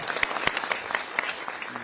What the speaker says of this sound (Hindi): एक बार पूरा जोरदार तालियां सब।